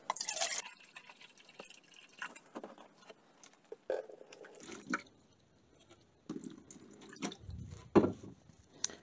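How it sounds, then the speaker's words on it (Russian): Water is poured from a measuring cup into a homemade filter built from a car filter and an old fire extinguisher, giving intermittent splashes and drips between quieter pauses and handling clatter. "Первый раз воды будем наливать вот таким вот мерным стаканом"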